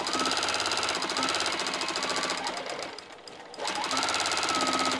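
A sewing machine doing free-motion quilting stitches rapidly with a fast mechanical chatter, pausing briefly midway before resuming at full speed, close and loud.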